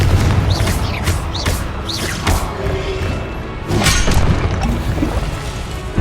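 The Confringo explosive spell cast in Hogwarts Legacy, heard as repeated booming bursts and whooshing impacts that sound loud and close, set against dense, continuous game combat noise.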